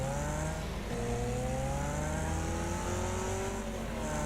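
The Blade race car in Wreckfest at Pine Hills Raceway, its engine roaring and revving hard without a break, the pitch rising and dropping through gear changes and a steady drone underneath.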